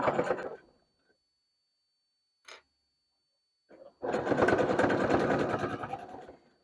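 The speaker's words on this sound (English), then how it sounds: "And we're just going to sew all the way around." A sewing machine stitches around the edge of a cotton burp cloth, first a brief whir that stops, then after a pause a long steady close-up run of rapid stitching.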